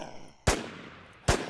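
Two loud, sharp gunshots in the online zombie survival game Infestation, spaced under a second apart, each with a short decaying tail and nothing else around them.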